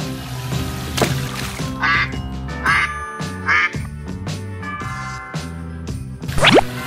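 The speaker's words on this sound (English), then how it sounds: "Duck." Several loud duck quacks spaced irregularly, each a sharp nasal burst, over faint tinkling background sounds.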